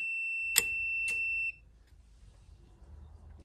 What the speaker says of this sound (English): you can hear the meter, the beep sound.